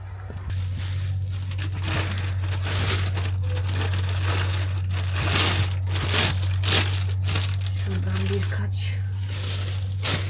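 Plastic bags are handled up close, giving continuous crinkling and rustling with sharp crackly bursts over a steady low hum, while a voice speaks intermittently.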